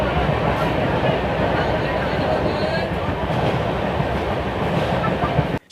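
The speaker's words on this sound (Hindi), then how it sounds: "तो ट्रेन पहुंच चुकी है आगरा कैंट जंक्शन।" Humsafar Express train pulling into Agra Cantt junction, a loud continuous rumble of rolling wagons and wheels heard from on board, steady throughout before cutting off abruptly.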